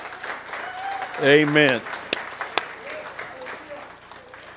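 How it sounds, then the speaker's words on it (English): A church congregation at a Sunday morning service claps for a man asked to stand. Scattered, moderate applause with a few sharp claps, and a voice briefly calls out partway through. "Give the Lord a big hand clap for that guy right there."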